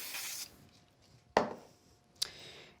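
A short aerosol burst of spray glue hisses onto the back of craft paper for a stained glass strip project, followed by two sharp handling taps and a brief rustle, heard close up with no talking.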